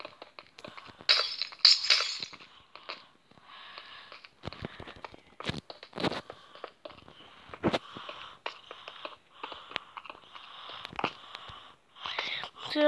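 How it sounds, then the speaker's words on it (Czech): Glass blocks shattering in the video game Minecraft during a Spleef match, a quick series of crisp breaking clinks scattered through the passage, with quiet Czech talk running underneath. "musím taky zničit nějaké sklo"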